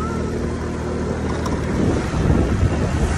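Two people riding a motorbike on the road toward Ubud, Indonesia, with steady, loud wind buffeting rumbling against the microphone throughout and no talking.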